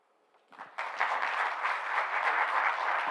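Conference audience applauding, starting quietly and swelling into sustained, dense clapping that holds steady and fills the room.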